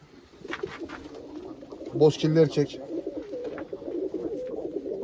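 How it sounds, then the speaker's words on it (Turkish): Commando-breed pigeons coo in a coop, soft repeated throaty coos close by, with someone talking over them. "Bunlar komandolar dediğimiz kuşlar arkadaşlar."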